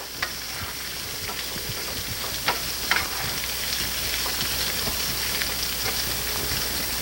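Seasoned potatoes with salt and lots of pepper fry in a pan with a constant hissing sizzle, while a few scraping taps of stirring cut through near the start, close and even throughout.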